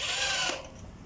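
A power drill whirs briefly while driving screws into pieces of furniture being assembled, a short close burst that winds down with a faint ratcheting tail.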